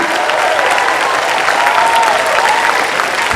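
Loud, dense applause from a large audience at a closing ceremony, continuous clapping filling the whole stretch without pause.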